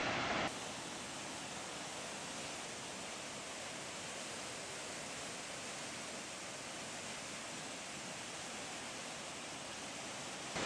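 A 110-metre, three-tiered waterfall near Marrakech, heard as a constant broad roar of rushing water, even and unbroken from start to finish.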